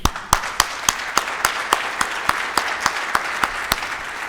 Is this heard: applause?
yes